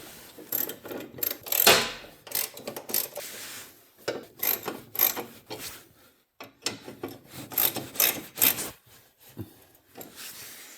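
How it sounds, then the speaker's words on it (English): Bolting a battery compartment cover onto a tractor: repeated scraping, ratcheting and metallic rubbing of hand tools tightening bolts, in irregular bursts with brief pauses, fairly close and moderate in volume. "for now, we're just going to bolt it in place and see how it looks"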